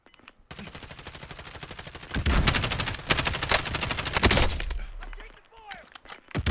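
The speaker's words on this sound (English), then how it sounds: "They're shooting at me" Video game gunfire crackles in rapid bursts through most of the stretch, loud and close, with heavier volleys in the middle and a few sharp impacts toward the end, while a voice is faintly present underneath.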